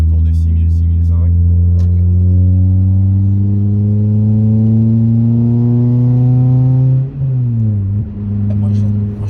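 Toyota Celica engine revving steadily and loud up through the range, then dropping briefly and revving again near the end, heard close with no talk over it.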